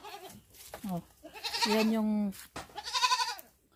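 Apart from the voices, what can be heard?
goats bleating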